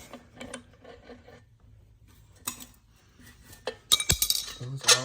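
A wrench clinks against metal while the small caps come off a catless downpipe for a 2021 Toyota Supra. A few sharp metallic clinks and rattles cluster near the end, and someone speaks briefly earlier.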